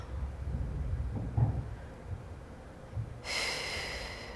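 Deep, slow breathing in a calm prenatal stretch session during the third trimester of pregnancy, with soft audible inhales and exhales close to the microphone, followed by a steadier, brighter hiss of breath toward the end.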